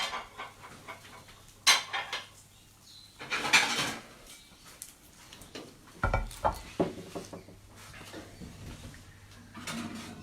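Plates and dishes clink and clatter in a home kitchen, several sharp knocks and scrapes spread irregularly over the clip, close by, with quiet gaps between.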